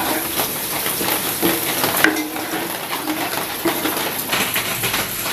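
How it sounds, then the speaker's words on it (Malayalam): Tempering is added and stirred into a pineapple curry (kaithachakka curry) in a pan, giving a steady soft sizzle with spoon scrapes and light clinks against the metal pot, close and continuous with no talk. "അപ്പം നമ്മൾ താളിപ്പ് ഇതിലോട്ടേക്ക് ചേർത്ത് വെക്കുക"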